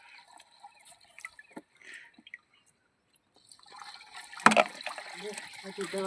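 Faint trickles and drips of water, then a louder gush and splash as water pours into a tank, continuing steadily.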